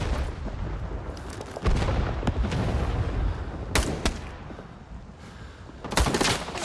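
Gunfire in Rising Storm 2: Vietnam, with sharp rifle and machine-gun shots cracking over a rumbling battlefield backdrop, several distinct loud reports spaced across the stretch amid continuous combat noise.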